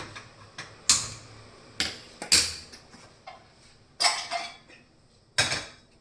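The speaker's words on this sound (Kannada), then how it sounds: "ಇವಾಗ ಕುಕ್ಕರ್ ಇಟ್ಕೊಳ್ಳೋಣ." A pressure cooker set on a kitchen stove, producing several sharp metallic clanks and knocks at irregular intervals, close and fairly loud against a quiet room.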